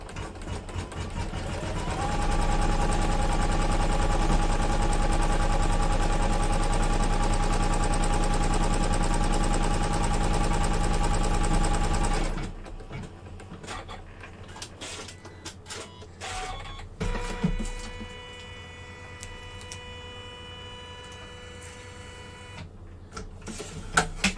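An embroidery machine stitches out a design on a zip pouch, a loud, steady, fast mechanical whir for about ten seconds, then stops, followed by quieter clicks and handling noises.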